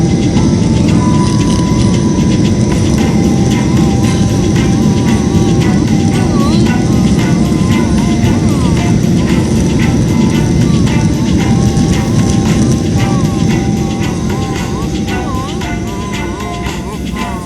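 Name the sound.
airplane landing, touchdown on runway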